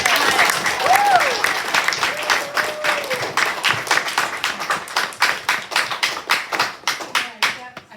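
Audience applause after a poetry slam reading: dense, loud clapping with a brief cheer early on, thinning into fewer distinct claps toward the end.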